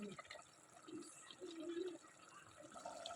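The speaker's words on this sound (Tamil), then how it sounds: "2 டம்ளர் தண்ணி ஊற்றிட்டு கொதி வரட்டும்" Water is poured into a pot of rice cooking with curd, a soft gurgling fill that rises and falls, quiet and close.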